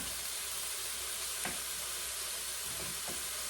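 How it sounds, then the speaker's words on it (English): Au jus bubbles and sizzles steadily in a hot pan, a constant hiss with a few soft pops and stirring scrapes. "Oh, our au jus is boiling."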